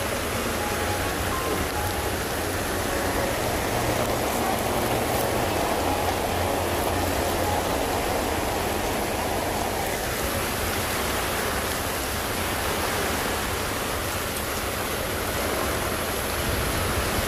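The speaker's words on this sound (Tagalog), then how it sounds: "Lakas ng ulan." Heavy rain pours outdoors as a dense, constant hiss that stays at the same level from start to finish, with no voices.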